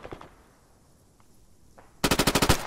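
Machine gun fire in a military video game, a rapid burst of about eight sharp, loud shots near the end after a quiet stretch with faint distant pops.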